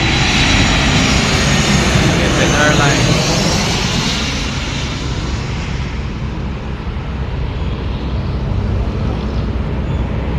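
An airplane passes overhead near an airport, its engine roar loud and steady throughout, swelling early on then settling, with voices faintly talking underneath.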